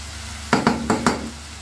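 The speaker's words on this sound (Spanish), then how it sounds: "Simplemente esperamos que se sofrían." Meatball seasonings frying over high heat in a pan give a constant sizzle, broken by four quick knocks and scrapes of a utensil stirring against the metal.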